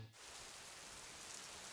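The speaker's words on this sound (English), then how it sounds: "it began to rain" Steady rain falls as a sound effect in a children's telling of Noah's flood, a dense, even hiss of drops that starts abruptly and continues quietly without any voices.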